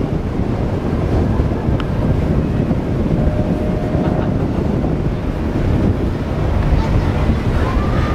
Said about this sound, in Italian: Quando mi giro così sento il vento che mi fischia nell'orecchio.